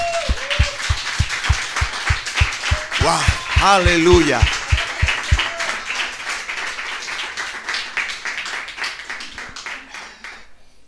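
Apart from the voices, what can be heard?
congregation applauding in church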